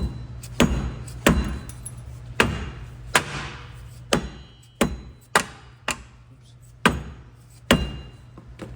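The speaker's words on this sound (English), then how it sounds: "So I'm gonna try just hitting this with a hammer. Get a dead blow." A dead blow hammer strikes a wheel bearing on a 2015 Honda Pilot about a dozen times in an uneven rhythm, each blow a sharp close thud with a faint ringing tail over a low hum.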